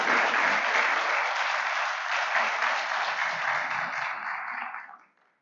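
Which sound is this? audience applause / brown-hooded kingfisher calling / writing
audience applause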